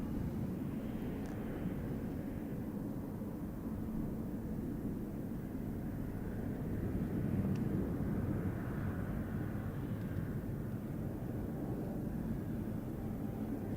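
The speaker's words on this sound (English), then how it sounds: "787-900 coming from Abu Dhabi." An Etihad Boeing 787-9 arriving from Abu Dhabi at Boston Logan Airport makes a steady, distant jet roar that holds at an even level throughout, with no voices.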